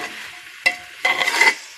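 A utensil scrapes and stirs food in a pan in a few quick bursts, with a light sizzle of cooking underneath, while making pavta bhat, a rice and bean dish.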